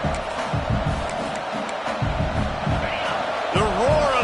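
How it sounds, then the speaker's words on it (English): Stadium crowd roaring at a college football game between Indiana and Michigan, a dense, sustained wall of cheering voices with a commentator talking over it and the noise swelling near the end. "The roar of the crowd trying to fuel this defense to keep them pinned in their own end"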